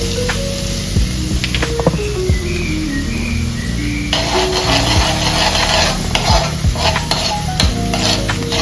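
Chopped garlic sizzles steadily in hot oil in a pan while a spoon stirs and scrapes through it, with a louder burst of frying partway through, close and continuous with no talking.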